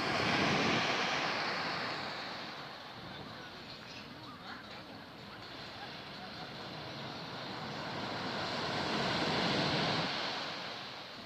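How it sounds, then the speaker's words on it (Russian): Sea waves washing onto the shore on a calm evening near Marseille, rising and falling in slow swells, steady and moderately loud with no voices. "Послушаем море."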